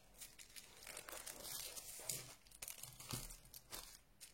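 Thin black tissue paper crinkles and rustles softly, close up, in irregular bursts of crackling with no talking.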